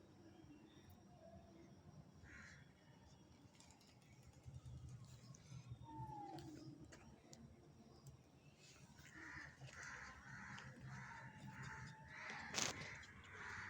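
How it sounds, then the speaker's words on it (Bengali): Crows caw faintly from a distance over a rooftop, with a few scattered calls and a short burst of harsher cawing near the end, against low background noise. "কাকগুলো কিরম কা কা করছে দেখ"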